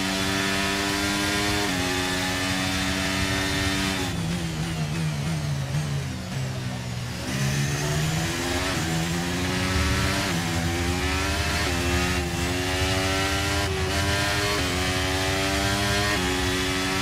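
An F1 23 racing car engine drones continuously, its pitch climbing and falling with gear changes and throttle, loud and steady throughout with no talk over it.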